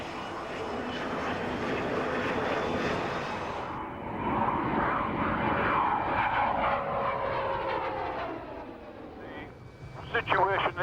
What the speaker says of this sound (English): a specially equipped Nimrod maritime patrol aircraft at RAF Kinloss in Scotland